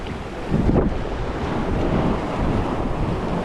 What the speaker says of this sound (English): Waves are coming up quite close to me